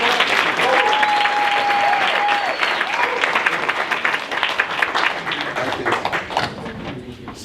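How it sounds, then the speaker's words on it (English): A live audience applauds John Paul DeJoria at an interview event, with dense sustained clapping that slowly thins toward the end, and a brief tonal whistle or feedback line early on. "So let's give John Paul DeJoria a round of applause."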